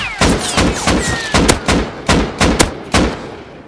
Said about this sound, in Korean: 총이 지나가는 소리 들린다.